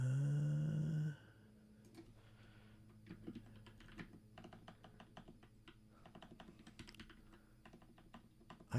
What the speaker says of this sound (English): I am having a hard time typing on this keyboard.